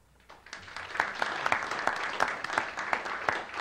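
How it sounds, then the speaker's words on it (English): An audience at a University of Michigan alumni event applauds to welcome a speaker, the clapping swelling quickly from quiet into a steady, moderately distant crowd of hands. "Now that's a rarity to get applause."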